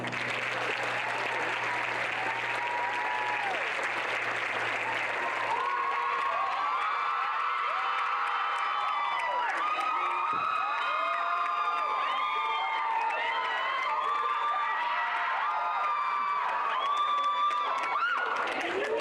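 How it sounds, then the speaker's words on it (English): An audience applauds and cheers a graduating nursing class of 2023 at a pinning ceremony, with sustained dense clapping, whoops and shouts that swell across the room, a voice briefly audible at the start. "Please give yourself an applause."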